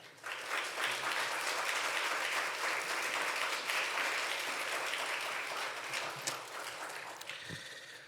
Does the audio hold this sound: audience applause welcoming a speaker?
yes